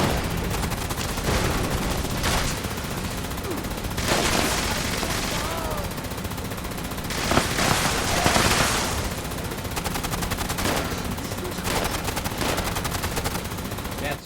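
Gunfire aimed at the player in Fallout 76, dense bursts of rapid shots and volleys repeating across the span, loud and close, with occasional heavier cracks among the rattling fire.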